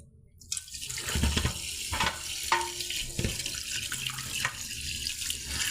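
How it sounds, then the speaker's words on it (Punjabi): Water runs steadily from a kitchen tap, a continuous hissing splash with a few louder knocks and clatters of something being handled in a sink. "ਹੁਣ ਆਪਾਂ ਇੱਥੋਂ ਟੂਟੀ ਤੋਂ ਸਾਫ ਪਾਣੀ ਕੱਢਣ ਲੱਗੇ ਆਂ"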